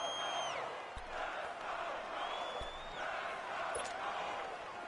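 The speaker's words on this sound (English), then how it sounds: "the crowd getting into it as we come up on a big third down" Crowd noise in a PS4 football video game builds ahead of a big third down, a steady, distant roar of cheering and whoops with occasional whistle-like tones and thuds, low in level throughout.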